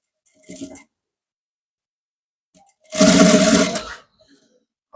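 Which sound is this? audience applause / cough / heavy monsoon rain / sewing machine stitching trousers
sewing machine stitching trousers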